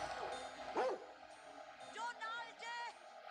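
A dog barks and yips in a film scene set on a street, a few short sharp barks mixed with whimpery tones, moderately close, under and between people talking.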